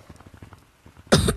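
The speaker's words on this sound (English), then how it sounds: "Not even a minute in, I'm already coughing." One person lets out a single sharp, close cough after a second of soft tapping and small background sounds.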